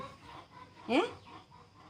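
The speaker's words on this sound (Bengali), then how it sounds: "তারা তো মুরগি সব ধান খাই লাইতেছে" Hens pecking at paddy rice at a rural village home, with a single short cluck standing out over faint background while a person briefly speaks.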